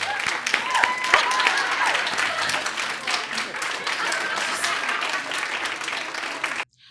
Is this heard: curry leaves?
no